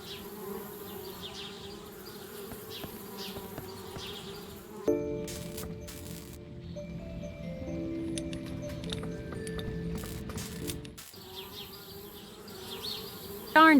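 Bees buzzing at a treehouse in Anna's Quest, a steady droning hum that gives way midway to a stretch of tonal game music before the buzzing returns.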